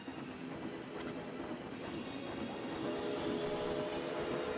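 A roller coaster train in the Planet Coaster video game rumbles along its track, a steady, moderately loud rolling clatter that builds slightly toward the end, with no voices.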